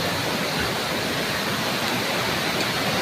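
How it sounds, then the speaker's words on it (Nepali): Namaste waterfall in Dhankuta pours down steadily into the river, a dense, constant roaring rush of falling water that fills the whole clip with no pauses. "ल झरना नमस्ते झरना। धनकुटाको नमस्ते झरना। खोला तलबाट बगेर आउँदैछ।"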